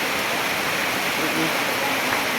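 Water pours and gushes steadily through a flooded house, a loud broadband rush like a small waterfall, close and continuous, while a voice speaks faintly under it.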